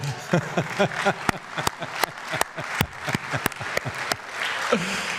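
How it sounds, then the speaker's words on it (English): Sharp, scattered hand claps from a small group, loose and uneven in rhythm, with a voice murmuring beneath and room noise throughout. "Can we clap hands for Zoran Lakovic as well?"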